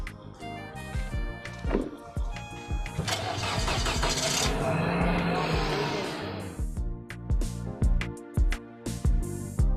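A car engine cranks and catches, settling into a steady running rumble for several seconds before cutting back, with a voice speaking over the quieter stretches before and after.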